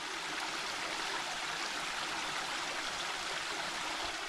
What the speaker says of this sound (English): the running water, of course. Let's listen to this for a few seconds.